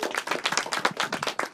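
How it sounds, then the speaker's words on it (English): Audience applause for a songwriters' panel, fairly close and lively, with quick irregular bursts of clapping that pulse rapidly throughout and no talk over them. "Let's give another round of applause for this amazing panel today."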